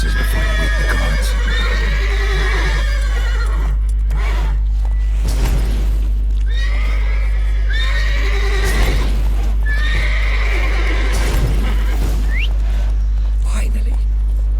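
Several horses whinny loudly in repeated drawn-out neighs over a constant low hum, with shuffling hoof and movement noises between calls, in The Witcher 3 video game.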